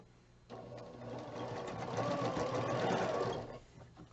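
Close, steady whir of a sewing machine stitching a Christmas quilt block, running continuously for about three seconds and building slightly in loudness before stopping.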